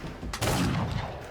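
A single musket or shotgun blast from a One Piece anime scene, a sudden booming report with a rumbling tail, short and loud against a soundtrack backdrop.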